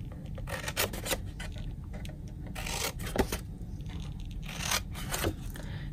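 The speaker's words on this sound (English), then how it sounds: "now we're gonna cut up to the score line" Paper card being cut with scissors up to a score line while making a treat box: a steady run of soft, close rasping snips and scrapes at a quiet level, with no talking.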